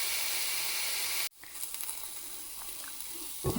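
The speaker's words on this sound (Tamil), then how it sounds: "இப்போ இந்த வெங்காயம் வந்து கொஞ்சம் லைட்டு ப்ரௌன் கலர் மாற ஆரம்பிச்சிருக்கு." Onions sautéing in olive oil in a pan for pumpkin bhorta give off a steady loud sizzling hiss that cuts out abruptly, then returns more softly with light crackles and a small clatter near the end.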